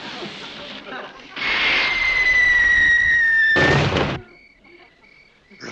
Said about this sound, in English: I told you I heard the Crabwell Corners fire engine